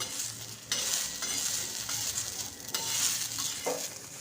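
Dry peas crackle and sizzle as they roast in a hot pan, with occasional scraping stirs and soft clinks from a utensil.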